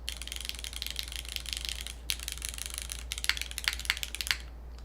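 A mechanical keyboard with milky yellow switches, an aluminum plate and GMK keycaps clacks under steady typing, a quick run of keystrokes with a brief pause and a final burst, close and fairly quiet.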